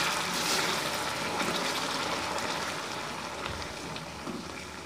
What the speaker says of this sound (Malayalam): അതുകൊണ്ട് നമ്മൾ ശ്രദ്ധിച്ച് വേണം വെള്ളം ഒഴിച്ചു കൊടുക്കാൻ.